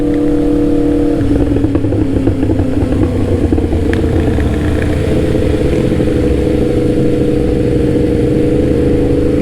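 A Honda Grom motorcycle with twin exhausts runs steadily nearby, a continuous mid-pitched engine drone with a slight change in tone partway through, heard alone without talk.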